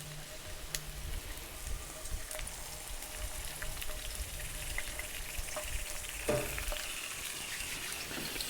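Seafood and meat frying in oil on a barbecue grill give a steady close sizzle and crackle with faint stirring and scraping, and no one speaks.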